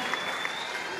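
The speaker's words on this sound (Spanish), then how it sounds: "El aplauso para recibirla." Brief, moderately loud applause from a campaign rally crowd welcoming a candidate, a continuous clapping texture with a few sharper claps.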